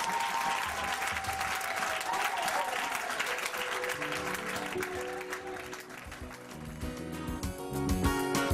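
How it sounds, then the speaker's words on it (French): Congregation clapping at a French-language church worship service, sustained dense applause mixed with singing and musical tones throughout. "Applaudissez pour le Seigneur."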